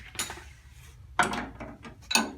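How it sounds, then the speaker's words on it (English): Metal sockets and spanners clink and rattle as they are handled during work on a 1964 Mk1 Mini, a few sharp close jangles separated by brief pauses. "Oh, sockets and spanners."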